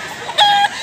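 A white leg bullstag rooster, nearly two years old, offered among fowl in Mantalungon, Cebu, gives one short, clear, tonal cluck close by against a quiet outdoor background.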